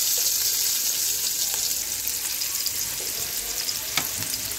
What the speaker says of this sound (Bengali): এই তো মাছগুলা ভাজতেছি।